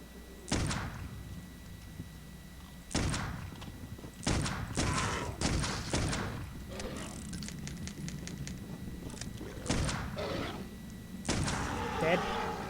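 Revolver gunshots in Clive Barker's Undying ring out as sharp, loud single cracks spaced a few seconds apart, with one quicker cluster midway and faint background ambience between shots.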